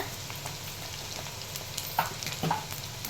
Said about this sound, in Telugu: వేసి లైట్గా ఫ్రై చేసుకోవాలి